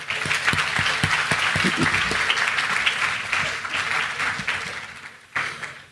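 An audience at a high school senior awards night applauds for two award recipients, a dense, steady wash of clapping from many hands that tapers near the end before a final brief swell.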